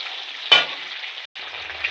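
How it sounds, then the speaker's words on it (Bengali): Pieces of paneer drop into hot oil in a pan for a soybean-paneer dish, giving a sharp sizzle burst followed by a steady, close frying hiss that briefly cuts out and returns. "পনিরটাকে একটু সুন্দর করে লাল লাল করে ভাজব"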